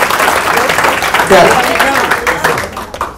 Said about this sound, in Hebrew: תנו לה כפיים, תנו לה כפיים